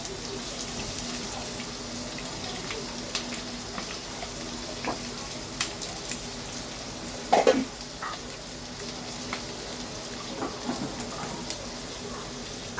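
Several eggs fry on high heat in a pan, a steady low sizzle and spatter running throughout with occasional clinks, and a voice speaking over it.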